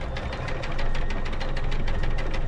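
A boat's single engine turning over slowly while the anchor is lifted, a loud, close, steady low rumble with a fast regular knocking pulse and no voices.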